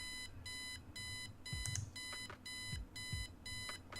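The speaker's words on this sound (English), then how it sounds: "Turn off the alarm clock." A video game alarm clock from Kathy Rain rings in repeated electronic beeping bursts, steady and loud, with a few thumps and clicks in between.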